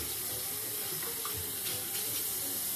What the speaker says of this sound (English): Rinse my hands off. Maybe not with this hot water.